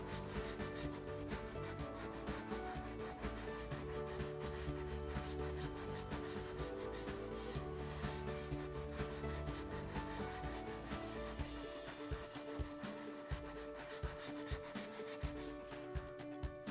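A dual action sander feather-edges a repaired bulge on a plastic bumper, giving a steady, close, abrasive whirring rub that runs continuously, with a rougher, more uneven scrubbing texture toward the end.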